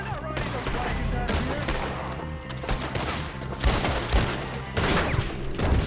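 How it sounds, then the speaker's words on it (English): Dense, continuous gunfire in the Western video game Red Dead Redemption 2, a loud fusillade of overlapping rifle and pistol shots with occasional heavier bursts and faint voices underneath. "Dude, John, quit shooting trees."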